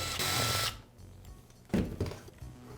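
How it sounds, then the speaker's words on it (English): A cordless driver backs out screws from the back of a Makita band saw housing, with two short whirring bursts, one at the start and another near the end, close by and moderately loud. "I'll flip the saw over and remove the 2 screws on the back."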